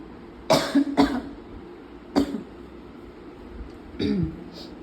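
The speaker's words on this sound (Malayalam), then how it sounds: "ചുമ വന്നത അമ്മക്ക്" Several hoarse coughs close by, a quick pair followed by single coughs and a throat-clearing sound, with quiet background between them.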